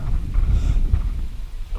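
Strong outdoor wind buffets the microphone in low, rumbling gusts near willow trees, steady and loud throughout with no voices.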